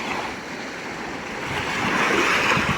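Surf washes steadily onto a free public sea beach, a broad continuous rush of breaking waves that swells louder near the end, with some wind on the microphone and no speech.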